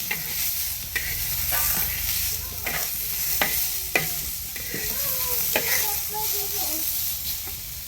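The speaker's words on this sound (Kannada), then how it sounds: "ಈ ರೀತಿ ಚಂದ ಎಣ್ಣೆ ಹಾಕಿ ಹುರಿಬೇಕು" Food frying in hot oil, a steady close sizzle broken by regular scrapes and clinks of a utensil stirring the pan over several seconds.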